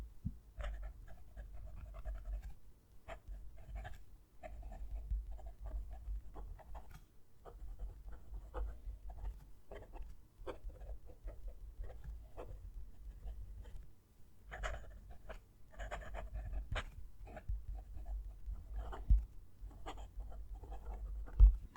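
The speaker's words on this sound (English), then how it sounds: "Let's move the mic down to the page and write a sentence." A Jinhao 82 fountain pen writes a sentence on paper close to the microphone, giving quiet scratchy strokes and taps in irregular bursts with short pauses between words, with no voices.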